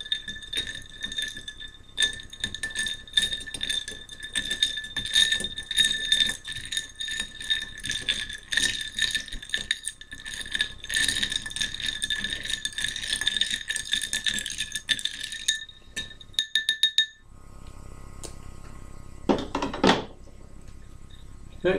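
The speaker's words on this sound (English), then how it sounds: "So now we will give it a nice little stir." A Holiday Godfather cocktail is stirred in a glass, making a continuous close rattling and clinking of ice and spoon for about fifteen seconds before stopping, followed by a few quieter knocks.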